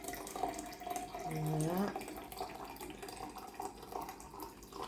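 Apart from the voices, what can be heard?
water being poured into a pot for bouillon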